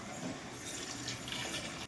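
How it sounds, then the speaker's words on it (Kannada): Hot water is poured into a pot of cooked vegetables for paneer pulao: a steady, close rushing pour lasting about two seconds that cuts off abruptly at the end, with no talking. "ಇವಾಗ ಇದಕ್ಕೆ ಸ್ವಲ್ಪ ಬಿಸಿ ಮಾಡಿರೋ ಅಂತ ಬಿಸಿನೀರು ಹಾಕೊಳ್ಳೋಣ"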